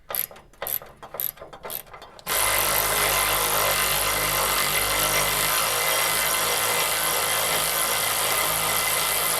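Cordless power tool working in a garage, preceded by a few sharp ratcheting clicks, then running in a loud, continuous whirring drone that holds steady to the end.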